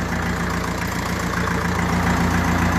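A 1954 Ferguson TEF 20 diesel tractor engine runs close and loud with a steady, even chug that holds level throughout.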